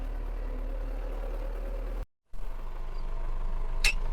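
MTZ 82 tractor running in a wheat field while spreading fertilizer, a steady low engine rumble with a brief cut in the middle and a sharp click near the end, no speech.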